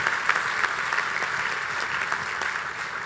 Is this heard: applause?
yes